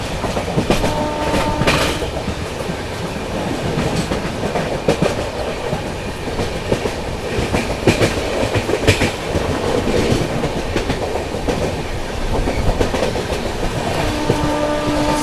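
The 12450 Goa Sampark Kranti Express runs through Bamania railway station without stopping. Loud, continuous rumble and rapid clickety-clack of wheels over rail joints fill the whole stretch, with rattling coaches and steady rushing noise throughout.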